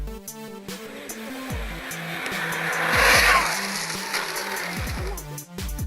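A high-speed RC model car powered by 12 cells of 5,000 mAh races past, its electric motor whining and rising to a loud peak around the middle before fading, with tire noise and no talking.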